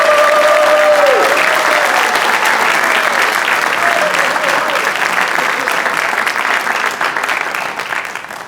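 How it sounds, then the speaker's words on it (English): An audience at a school National Honor Society induction ceremony applauds new members with sustained, loud clapping that fades slightly toward the end. "please join me once again in applauding all of our new Honor Society members"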